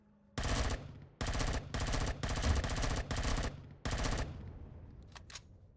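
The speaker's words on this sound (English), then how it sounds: "The assault rifle is always a great way to start out." Assault rifle firing in the game Empyrion Galactic Survival: five or six loud, close automatic bursts in quick succession, followed by a fading tail and a couple of faint clicks, no talking.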